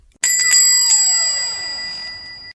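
A bright metallic bell rings with a few quick strikes at the start, then a clear ringing tone that slowly fades out, close and alone.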